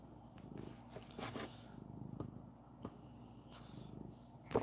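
An old cat, about 11 years old, purrs close by in a quiet indoor room, a soft steady rumble with a few louder rises and brief clicks.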